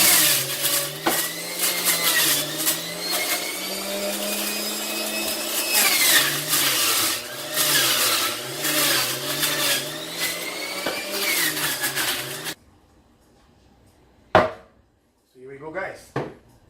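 A Breville compact juice extractor juicing celery: a loud, steady motor whine with grinding and chopping, which stops abruptly and is followed by a few clunks.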